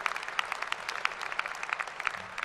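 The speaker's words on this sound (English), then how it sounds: "give Ed McIntosh a big round of applause" A large audience gives a round of applause at a university commencement ceremony, a fairly faint, even wash of many hands clapping that stays steady throughout with no talk over it.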